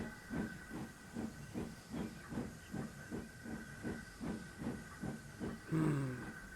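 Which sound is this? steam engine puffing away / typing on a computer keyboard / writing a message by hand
steam engine puffing away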